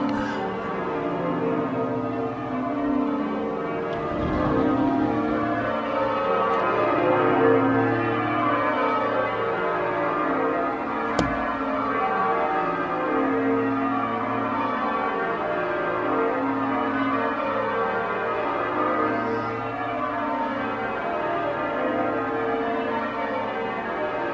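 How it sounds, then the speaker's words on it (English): Church bells peal on a Sunday in Oxford, a continuous overlapping cascade of rung bells, loud and sustained throughout. "Oh, there's more bells."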